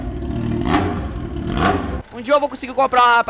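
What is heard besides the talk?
car engine making a strange noise, from the video game Supermarket Simulator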